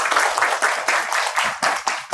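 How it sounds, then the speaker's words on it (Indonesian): Classmates clap for fellow students in a classroom, a brief burst of uneven, moderately loud handclaps with a few sharper individual claps standing out. "Boleh tepuk tangan dulu buat teman-teman."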